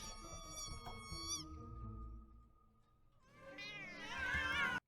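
Several cartoon cats meow and caterwaul in an animated movie scene, one clear meow early, then a loud chorus of overlapping cries near the end over music.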